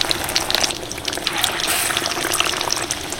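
Lote fish chops frying in a shallow layer of oil, giving a steady, close hiss and crackle with bright spattering pops that swell slightly midway.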